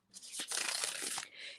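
A quick, crisp flurry of riffling matte, bendable card edges, close and fairly quiet, ending with a softer brushing rustle.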